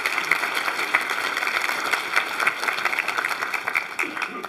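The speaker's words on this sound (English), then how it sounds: "That, I think, deserves a round of applause" Sustained applause from a large audience at an entrepreneurs summit, dense steady clapping for several seconds with a faint voice underneath.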